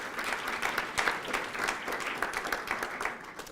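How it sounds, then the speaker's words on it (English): An audience at a graduation ceremony applauds, a dense, steady wash of many hands clapping that holds at an even level throughout. "A big round of applause for them."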